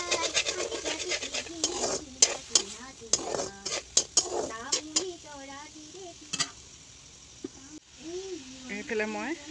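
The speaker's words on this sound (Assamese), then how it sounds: "এনেকৈ মই বিলাহীখিনিকে অকণমান ভাজি ল'ম।" Tomatoes sizzle and scrape as they are stirred in a wok with no oil, a steady crackle broken by sharp spatula knocks, while a voice talks over the cooking.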